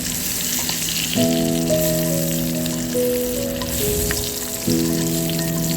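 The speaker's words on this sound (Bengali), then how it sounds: "এবার এই ডিমগুলোকে ভালো করে 4 মিনিট মতো এদিক ওদিক করে লাল লাল করে ভেজে নেব।" Eggs frying in oil in a pan for a Bengali egg masala lunch, a loud, dense, steady sizzle heard close up, with a sustained tonal hum running under the frying throughout.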